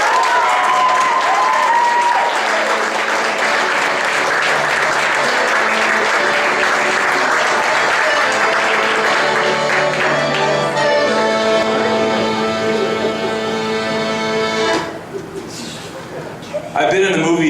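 A theater audience breaks into sustained, loud applause as a speaker is welcomed on stage, dense clapping holding for about fourteen seconds before thinning out, with a brief voice and faint music near the end.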